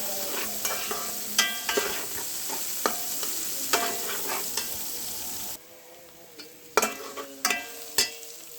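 Whole spices, garam masala and bay leaf, sizzle in a hot pan with a steady frying hiss, punctuated by repeated stirring scrapes and clacks. The sizzle drops abruptly partway through, then the stirring continues.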